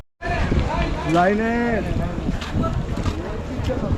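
A motor launch ferry pulls in at Benuban ghat among fishing trawlers, its engine a low churning rumble mixed with gusting wind noise as people talk nearby.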